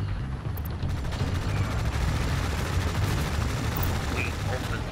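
Dense, continuous battlefield gunfire from Tom Clancy's EndWar, a World War III strategy game set at Istra, Russia, with a steady rumbling barrage of rifle and artillery fire throughout and faint voices in the mix.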